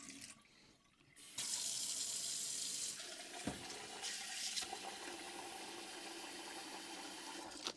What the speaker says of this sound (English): you have to wash it until the water get clean